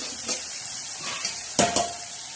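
Onion, green chillies and tomato sizzle steadily in a hot pan as a tempering for a spinach and moong dal dish, with a couple of brief stirring scrapes partway through.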